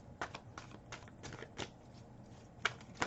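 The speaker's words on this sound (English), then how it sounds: "Maybe I need to shuffle some more." Soft, quick riffling of tarot cards being shuffled in several short bursts, close and quiet with brief pauses between.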